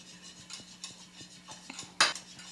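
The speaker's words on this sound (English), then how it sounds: "add my 4 pieces of butter, and I'm going to whisk those in" A whisk clinks rhythmically against a pan as pieces of butter are beaten into orange curd, steady light metallic ticks with one sharper scrape near the end, close and fairly quiet.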